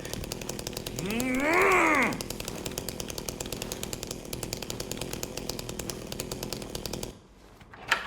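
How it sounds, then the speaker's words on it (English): A chainsaw in the video game Silent Hill 2 buzzes with a rapid, continuous chatter, swelling into a loud revving groan early on before settling back and cutting off near the end, with a voice talking over it. "including a chainsaw that can be found on New Game Plus"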